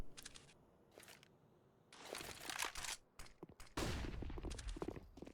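Gunfire in a Counter-Strike match on the Nuke map: sharp, loud bursts of shots with brief lulls between them, close and dense toward the end.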